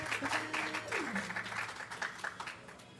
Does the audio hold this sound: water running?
no